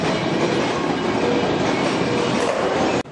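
A JNR 113 series electric train, a roughly fifty-year-old national railway car on a through service to the Kosei Line bound for Ōmi-Maiko, rolls along steadily with continuous loud rail rumble and clatter, ending abruptly.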